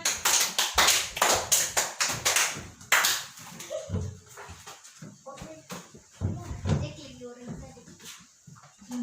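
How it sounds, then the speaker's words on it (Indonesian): A classroom of pupils claps together in a quick burst of sharp, loud, irregular claps lasting a few seconds. The clapping then fades, and voices and room noise carry on afterward. "Tepukan."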